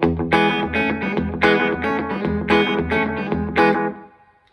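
An electric guitar through an old Boss DM-3 delay pedal set for a rockabilly slapback, crisp picked chords and notes in a bouncy rhythm with short audible repeats, ringing out and fading at the end.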